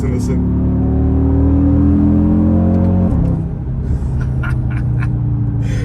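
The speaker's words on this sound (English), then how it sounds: "then you get that typical 5-cylinder sound" An Audi RS Q3 five-cylinder engine hums and revs with a deep, throaty drone, the pitch shifting midway as it settles into a steady rumble.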